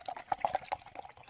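A drink poured from a water bottle into a cup, giving short liquid splashes and drips over about a second, close by and moderately quiet, with no talk.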